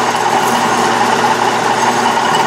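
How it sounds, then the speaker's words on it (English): A sharpened twist drill bit boring a hole in metal for a small oscillating steam engine build, a steady close whirring grind that holds even and loud throughout with no pauses. "You can tell when your drill bit is sharpened correctly when you're getting two chips coming out of there"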